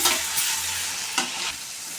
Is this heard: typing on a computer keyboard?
no